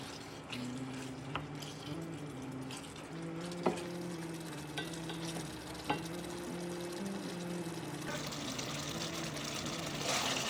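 Shrimp and sauce simmer in a pot for Senegalese thieboudienne, a quiet steady bubbling hiss with an occasional utensil tap, faint and with nothing else over it.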